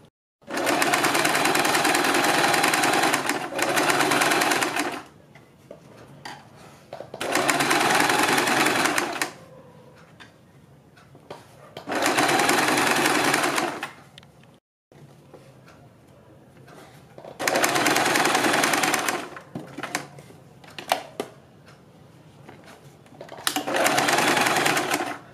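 A sewing machine stitches the neck facing of a kurti, running close and loud in five long, steady bursts separated by quiet pauses filled with fabric handling.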